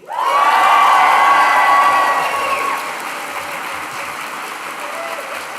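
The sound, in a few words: graduation crowd cheering for the class of 2025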